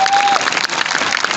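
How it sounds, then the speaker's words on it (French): Loud, dense applause from a comedy show audience in Côte d'Ivoire, continuous clapping filling the whole moment with a brief whistle-like tone at the start. "si vous avez aimé, applaudissez très fort pour vous"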